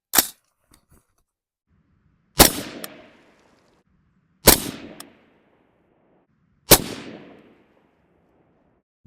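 Three sharp, loud AR rifle shots fired at 50 yards on an outdoor range, evenly spaced about two seconds apart, each with a quick fading echo, plus a faint click before the first shot.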